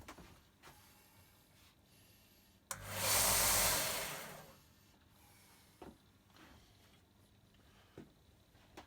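A small Axminster AC125BDS mini belt sander grinds a World War II military-issue machete in one loud, rough burst of about a second and a half, standing out from a quiet room with light handling noises before and after.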